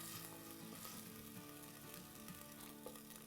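Chopped tomatoes frying in a clay handi pot, a dense crackling sizzle with bursts of popping, steady and close throughout without any talking.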